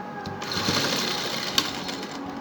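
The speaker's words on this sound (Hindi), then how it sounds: "घुमाएं कमीज़ को और सिलाई फिनिश कर दें।" A sewing machine stitches a shirt's button placket in one continuous close whirring run lasting about two seconds.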